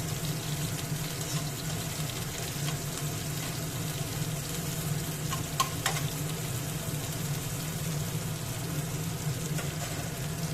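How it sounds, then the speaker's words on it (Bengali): Finely chopped onion with cumin seeds sizzles in hot oil in an even, continuous hiss, joined now and then by faint stirring clinks. "পেঁয়াজটা একটু ভালো করে ভেজে নিতে হবে।"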